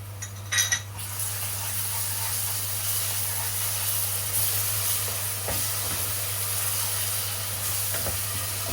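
Garlic paste sizzling in a pot of hot oil, a steady, even hiss that carries on alone after a brief clatter of a utensil at the start.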